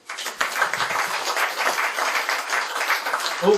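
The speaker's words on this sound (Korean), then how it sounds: "박수로 부탁합니다." Audience applause at a Korean gathering as the association chairman is welcomed to the stage, a steady, dense wash of many hands clapping that swells quickly and carries on evenly throughout.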